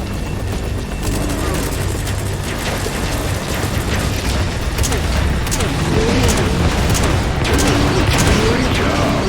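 Missile launcher fire in a video game, a dense, loud mechanical roar and whooshing rumble that runs throughout, with sharp crackling bursts layered on top and a voice heard briefly.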